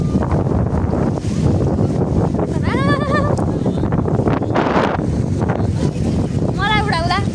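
Strong wind roars against the microphone in an apple orchard in Mustang, a loud, constant rumbling gust with voices speaking through it.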